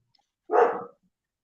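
A single short dog bark sounds outside, fairly muffled and at moderate distance, alone in an otherwise quiet stretch.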